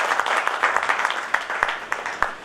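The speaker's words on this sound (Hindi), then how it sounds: "जोरदार ताली दियौ।" An audience at a student union's founding-day event applauds, a fairly faint wash of many hands clapping with a few sharper individual claps standing out near the end.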